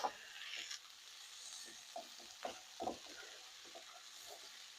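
Brussels sprouts with bacon get stirred in a pan. Soft sizzling runs under a few scattered scrapes and clinks, close but fairly quiet, with no speech.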